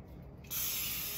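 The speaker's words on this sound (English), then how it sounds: "the first step is you're gonna spray your pan" Non-stick cooking spray is released from a can into a pan for a Reuben casserole: a brief quiet, then a steady, close, hissing jet that lasts about a second.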